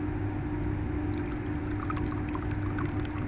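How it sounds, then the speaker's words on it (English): Meat stock poured through a cloth set in a sieve over a container, a steady, continuous close-up stream of liquid with no pauses and no talking. "pour it through the cloth, which will stop the coagulated bits of meat juices going through"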